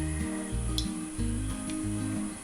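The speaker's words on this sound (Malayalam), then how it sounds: "ഇതിലേക്ക് 3 ടേബിൾ സ്പൂൺ ഓയിൽ ഒഴിച്ചു കൊടുക്കാം." Three tablespoons of refined oil poured into a heated pan, giving a steady close sizzle over a low rumbling hum, with no one talking.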